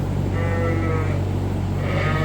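Sheep on a farm bleat over a loud, steady rumble, with wavering calls rising and falling and overlapping from several animals nearby.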